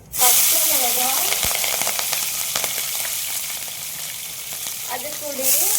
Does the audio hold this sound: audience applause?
no